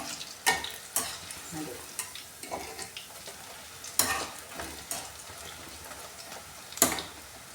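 Pakoras frying in hot oil in a desi Punjabi kitchen while being turned with a slotted spoon, giving a soft bubbling sizzle broken by sharp clinks and scrapes of the spoon at irregular intervals.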